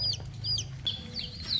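Chickens clucking while being herded in for the night at a home with a decorated fish pond, repeated short calls rising over a low steady hum, fairly close and moderately loud.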